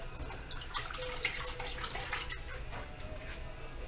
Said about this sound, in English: now we got it dunked in water, splash it around, get all that vinegar juice off of it